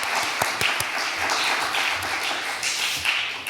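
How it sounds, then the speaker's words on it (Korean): A church congregation gives sustained applause during a Sunday worship service, a dense, steady wash of many hands clapping together, loud and continuous throughout with no talking over it. "하나님께 영광 박수 올려드리겠습니다"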